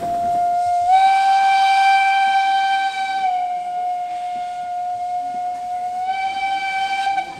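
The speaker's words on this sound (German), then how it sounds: "Gleich soll noch eine andere Lok bzw. ein anderer Zug kommen." A steam locomotive's whistle blows at the Putbus station festival. It is a loud, sustained, harmonic blast lasting several seconds, dips briefly, then swells again, with no talk over it.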